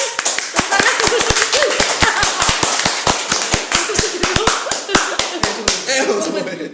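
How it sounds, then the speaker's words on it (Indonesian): An audience claps hands in a quick, steady rhythm of crisp individual claps, about four or five per second, with voices murmuring underneath. "Boleh tepuk tangan? Tepuk tangan"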